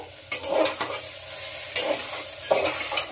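Spices with turmeric powder and nearly melted tomato sizzle in a hot pan, with three bursts of a utensil scraping and stirring through them, close and clear.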